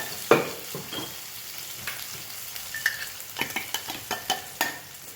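Muthiya dumplings are stirred and fried in a pan with a steady soft sizzle, while a spoon scrapes and taps against the pan in a run of quick clicks that grow more regular toward the end.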